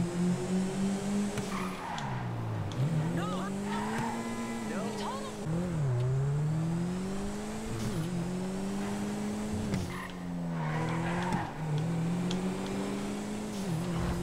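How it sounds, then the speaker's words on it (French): A turbocharged Canis Castigator SUV in GTA revs up and down repeatedly, its pitch rising and falling, with tires squealing through the turns; loud and continuous racing-game audio. "On entend bien le turbo déjà."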